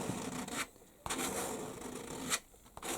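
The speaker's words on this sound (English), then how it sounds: "I would get a credit card, and I would scrape off the entire lot" A credit card scrapes oil pastel off a drawing in several close, dry rasping strokes separated by brief pauses, with no talking.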